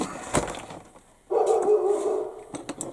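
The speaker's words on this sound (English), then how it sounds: "Ooh, dog bark." A single dog bark rings out indoors, with a short sharp onset followed by a fuller bark sound and faint background noise, no talking.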